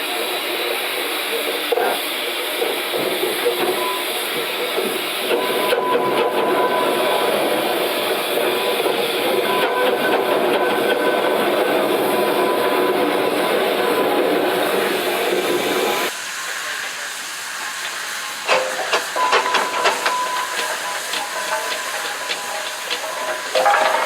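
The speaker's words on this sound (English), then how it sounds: "Comes the steam truck, the Yorkshire." A Yorkshire steam truck runs at a steam and traction society event, giving a steady hissing, chuffing roar with broadband steam noise that stays loud and close, then briefly drops before rising again.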